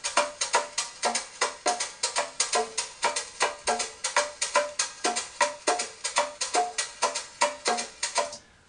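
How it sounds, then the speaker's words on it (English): Clave and cascara patterns play together in a percussion groove. Crisp wooden clicks interlock with brighter accented strikes in a dense, steady syncopated rhythm, close and loud throughout. "Clave and cascara, you've heard it a million times."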